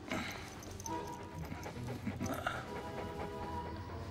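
A dog pants softly and rapidly in a continuous, faint rhythm, layered under background ambience and light music.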